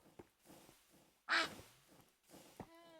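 A duck in a world-touring game quacks once loudly and close, with softer rhythmic clattering of a train in the background and a faint tonal whistle near the end.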